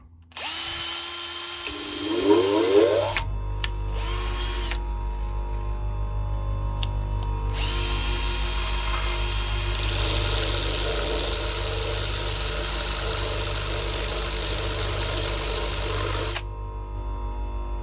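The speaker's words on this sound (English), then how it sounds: "take it to your bench grinder and just grind a tip on it" Bench grinder grinding a fresh tip on a metal point for a bike basket repair: a loud, steady motor whine with harsh grinding hiss that stops briefly and resumes, running continuously and close for most of the time, with no voices.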